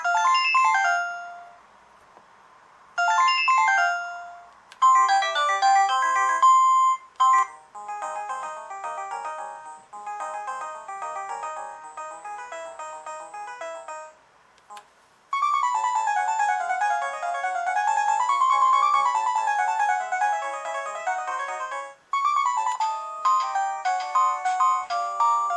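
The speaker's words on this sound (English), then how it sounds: "If I'm gonna use this phone, I'm gonna use this ringer." The electronic ringer of a thrift store telephone plays bright warbling, melodic tone patterns in several separate bursts, alone and clear, with short silences between them.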